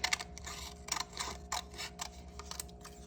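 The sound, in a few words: scissors cutting paper triangles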